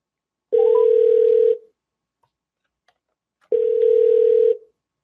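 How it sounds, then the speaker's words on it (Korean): Telephone dial tone heard while a call is being placed, two loud steady one-second tones separated by about two seconds of near silence, clean and close with no talking. "제가 한번 전화를 올려보겠습니다"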